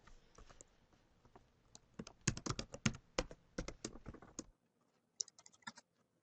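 Close computer keyboard typing while filling in name fields on a provider form, starting with scattered keystrokes and building into quick dense bursts, then a short silence before another rapid flurry of key taps.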